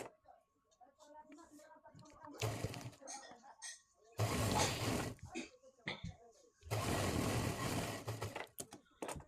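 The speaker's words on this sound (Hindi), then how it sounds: "अब चैन को जो है इसके ऊपर रखकर सिलाई लगा लेंगे।" A sewing machine runs in three short bursts as it stitches a zipper onto a pair of pants, its steady mechanical whir rising between stretches of talking.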